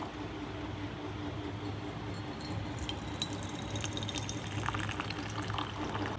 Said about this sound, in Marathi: लगेच आम्ही घेतला चहा ओतून.